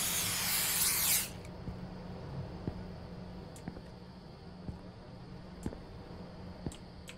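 In a horror video game set in a haunted gas station and convenience store, a spray can blasts bugs in one loud hiss lasting about a second, followed by quiet ambience with faint, evenly spaced ticks.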